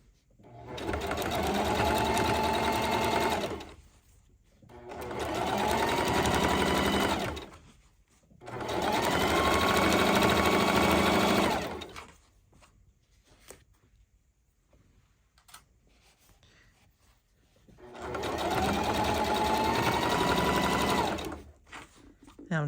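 Sewing machine stitching fabric for a dryer mat, running in four loud bursts of a few seconds each separated by short pauses, with faint handling clicks in between.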